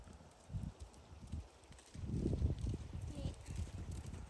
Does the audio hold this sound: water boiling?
no